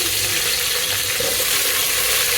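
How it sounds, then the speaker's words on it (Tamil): Sliced onions sizzle in a hot pan while a biryani is being prepared, giving a steady, dense, crackling hiss that stays loud and close throughout, with no talking. "இப்போ வந்து நம்ம வெங்காயம் போட்டுடலாம்."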